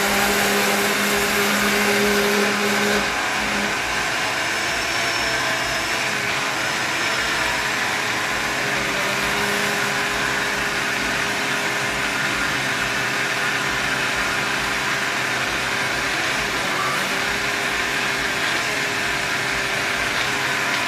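Blender whirring steadily as it mixes cornmeal cake batter with flour and baking powder, a loud, continuous motor drone heard close, with a slight pitch change near the start.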